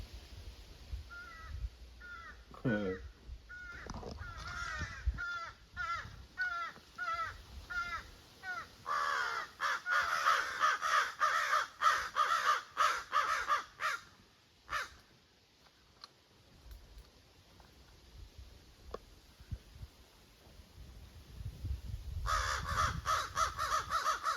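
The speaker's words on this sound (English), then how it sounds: "the crows really want to be heard this morning." Several crows, three of them, caw repeatedly, loud and fairly close, in bursts of harsh calls that overlap, with brief quieter gaps before the cawing picks up again, on a Sunday morning in northern Nova Scotia.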